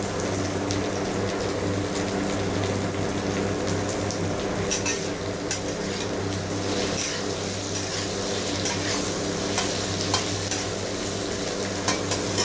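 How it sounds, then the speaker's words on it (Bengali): Sliced onions and potatoes frying in a pan for a fish curry, a loud continuous sizzle with scraping stirring and occasional sharp pops, no voices. "একটু ভেজে নেব পেঁয়াজ আর আলু"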